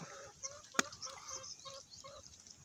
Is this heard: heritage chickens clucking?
yes